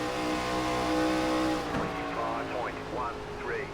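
An ARCA stock car engine in iRacing at Rockingham Speedway drones loudly and steadily, then rises and falls in pitch as cars pass close by, with a voice speaking over the engine noise.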